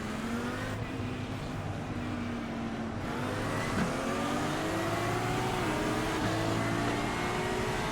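An Audi GT3 race car in a sim racing game pulls away from a rolling start at Mugello, its engine droning steadily with rising pitch among other cars, loud and continuous with no talk.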